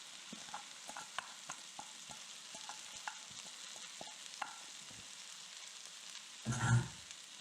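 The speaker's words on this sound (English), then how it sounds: "And we're going to give this a quick saute." Cabbage and onions sauteing in a pan for an Estonian sauerkraut dish, with faint, steady sizzling and a sparse series of light stirring clicks, ending in a short louder thump near the end.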